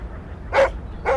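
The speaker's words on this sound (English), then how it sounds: "Rocky was barking at morning joggers and chasing squirrels along the fence line." A dog named Rocky barks twice, two sharp, fairly close woofs separated by a short pause over a faint background hum.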